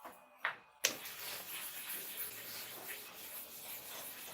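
A hair clipper blade is being resharpened, giving a continuous close grinding rub after two short taps at the start. It stays fairly quiet and steady throughout with no talk.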